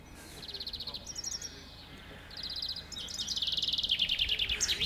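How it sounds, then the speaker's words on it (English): Birds sing in bright, rapid chirping bursts outdoors near an old well in Upper Wharfedale, Yorkshire Dales, several calls repeating and overlapping, moderately close and fairly clear. "You can hear birds whistling there."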